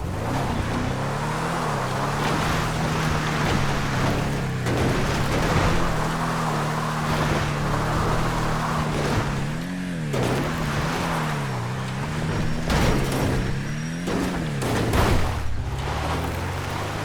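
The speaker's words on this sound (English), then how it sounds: "In game the car is known as the Karin Everon, and let's have a little look now." Engine drone with rising and falling pitch from a Karin Everon pickup truck, modeled on an Arctic Trucks Toyota Hilux, driven in GTA, loud and continuous with rushing wind and road noise throughout.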